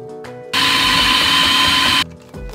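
A kitchen blender whirs steadily for about a second and a half as it blends rocket pesto made from rocket, nuts, garlic, parmesan and olive oil, loud and close, starting and stopping abruptly.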